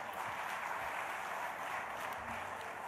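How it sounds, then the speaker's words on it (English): Audience applause at an African football player of the year award ceremony, a steady, dense wash of clapping from a large crowd that continues evenly at moderate, somewhat distant level. "I think we should clap hands for all of them."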